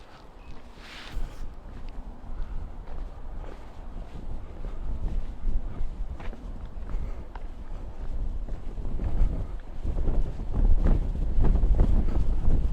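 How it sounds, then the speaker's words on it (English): Gusty wind buffets an open microphone beside a viaduct, a constant low rumbling roar that swells louder toward the end, with faint footsteps and small handling knocks underneath. "Yes, first outing and it's windy."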